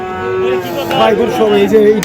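Cattle at the Ambari cattle market in Cumilla, with breeding bulls tied in rows, give a loud, close, drawn-out moo that wavers in pitch, with faint market noise behind.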